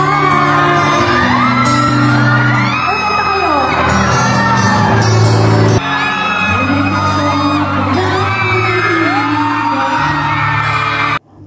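Fans at a media fan con scream and whoop loudly and without pause over a song being sung on stage, with the crowd noise filling the whole stretch until a sudden cutoff.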